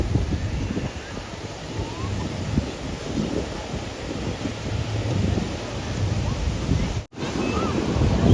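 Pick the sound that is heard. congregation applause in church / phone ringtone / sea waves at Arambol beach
sea waves at Arambol beach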